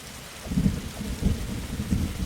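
Low rumbles of thunder in the Roblox game 99 Nights in the Forest roll in a few heavy bursts over a steady hiss of rain, with no one speaking.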